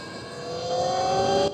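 Talaria electric dirt bike coasting downhill on regenerative throttle with a Nucular P24F controller, a rising whine of motor tones building over a brief second and a half, with wind rush underneath.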